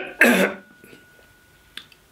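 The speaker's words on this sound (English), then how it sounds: "There's another cough coming." One hoarse, close cough from a tickly throat bursts out loudly, then fades into quiet room tone, followed by a faint small click near the end.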